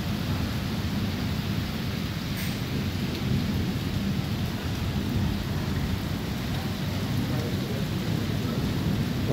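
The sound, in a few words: heavy rain with thunder in early morning Lahore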